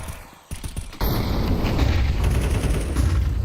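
Gunfire in a Counter-Strike match at a professional esports tournament: a few sharp, close shots ring out, followed by a dense, steady wash of in-game noise.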